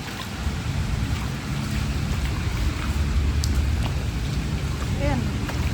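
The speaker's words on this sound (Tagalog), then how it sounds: "Bagsak yung ulan eh." Heavy rain pours in a steady dense wash over a waterlogged area with planted crops, loud and continuous, with faint distant rumbles underneath and occasional voices.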